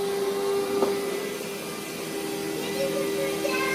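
A toy vacuum cleaner runs with a steady, even motor whine close by. Children's voices can be heard faintly in the background.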